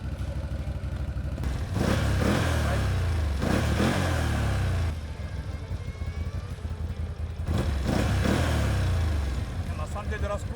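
A BRP Outlander 1000cc ATV engine revs up hard in several loud, close bursts, each surging quickly and settling back to a rough idle between pulls.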